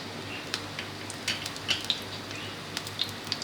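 Cumin and cinnamon fry in oil with a soft, continuous sizzle, dotted with small crackles and light metallic clicks of stirring, quiet and close with no talk.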